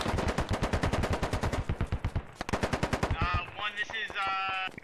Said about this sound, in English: That's that dish Kentucky firing in on some infantry.